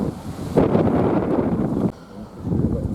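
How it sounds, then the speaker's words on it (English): Strong wind buffeting a microphone outdoors at a classic car show, in rough, roaring gusts that swell and drop, with no talking. "It's so windy today."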